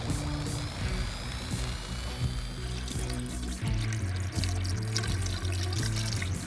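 Liquid pours steadily into a tank during routine maintenance on a Subaru boxer engine, a continuous close gurgling stream with a rhythmic glugging pulse throughout.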